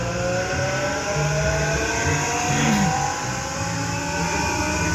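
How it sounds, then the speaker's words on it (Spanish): Samsung WF106U4SAWK inverter washing machine motor spinning up during a spin test, a steady loud whir with rising tonal whine over constant rumble, close and continuous with no talk. "Y ya me empezó el motor."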